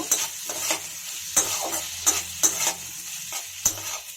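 A spatula works through a bread upma mixture with lemon juice in a hot pan, giving repeated sharp scrapes and knocks at an uneven rhythm over a low, continuous sizzle.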